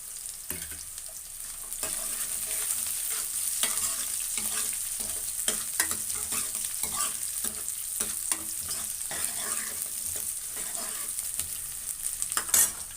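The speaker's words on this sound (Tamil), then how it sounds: "பூண்டு போட்டுக்கிறேன்." Garlic sizzles in a pan of spiced okra kara kulambu as it is stirred, giving a steady hiss with frequent scraping and clinking of a spoon against the pan, close and without any voices.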